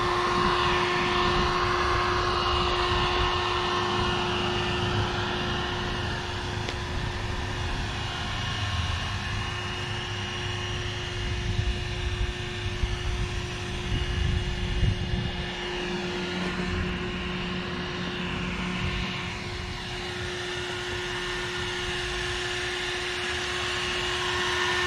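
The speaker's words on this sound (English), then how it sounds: "I'm gonna take my heat gun and go around it." A handheld heat gun blows a steady whirring drone while being moved around a paint-matched duck bill spoiler on a car's metal trunk lid, holding a constant pitch for the whole stretch.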